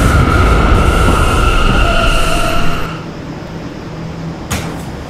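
R179 E subway train running in the Roblox PTA Subway game, a loud steady rumble with tonal motor whine that fades after about three seconds, followed by a quieter hum and a brief clack.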